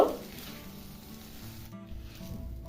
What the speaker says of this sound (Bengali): সবজির সাথে সুজিটা খুব ভালো করে মিশিয়ে নিলাম সবজির সাথে সুজিটা একটু ভেজে নিব